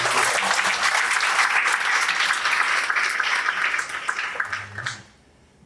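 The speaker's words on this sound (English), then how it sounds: "Let's give another round of applause for them." A room full of audience members at a community history program claps in sustained, dense applause that gradually thins out and fades to near silence at the end.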